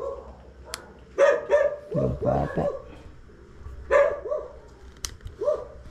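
A dog barks in a few short bursts at mid distance, with a quieter stretch between, while people talk nearby in an early-morning setting before a fishing trip.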